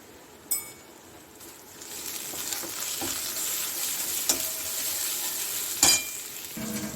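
Pointed gourd frying in oil with turmeric and Kashmiri chili powder gives a steady sizzle that swells as it is stirred, broken by a few sharp clinks of a utensil against the pan.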